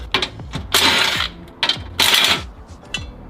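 Ratchet wrench loosening 14mm bolts on a plate under a Mazda 3, heard up close as quick bursts of metallic ratchet clicking with short gaps between them and no talk.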